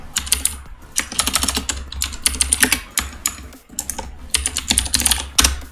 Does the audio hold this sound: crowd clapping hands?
no